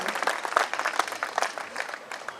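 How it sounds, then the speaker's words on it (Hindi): Audience applause at a talent show fair, many hands clapping quickly and continuously in a lively burst that stays fairly even throughout. "मैं तालियां बजाओ तो ढंग से बजा दो।"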